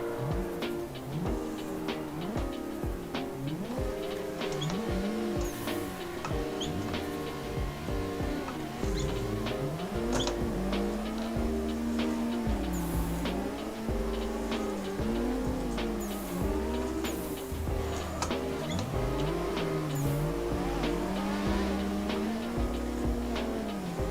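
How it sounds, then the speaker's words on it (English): In the Assetto Corsa driving game, drifting cars give off engine notes that rise and fall continuously, with tire squeal woven through them. The sound is steady and moderately loud with no talk. "As everybody tries to hold drift with left foot brake"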